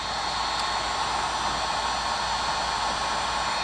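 A heat gun blows hot air onto plastic panels of a Can-Am X3 to shrink them, a loud, constant roaring rush of air that never varies for the whole few seconds.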